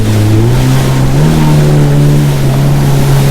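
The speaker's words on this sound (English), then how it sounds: "the sound of the engine and the wind noise" A Yamaha WaveRunner engine drones loudly with a steady low hum that rises slightly in pitch, mixed with constant rushing wind noise on open water.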